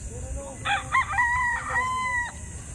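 A rooster at a game fowl farm in San Nicolas, San Pablo, Laguna lets out a single drawn-out crow that rises and holds before breaking off, loud and fairly near over low background rumble.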